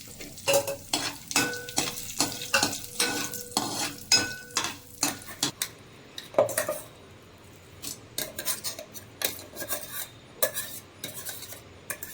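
Steady sizzling of cumin, mustard seeds, curry leaves and dried red chillies tempering in hot oil, with frequent clinks and scrapes of a spoon stirring the pan throughout.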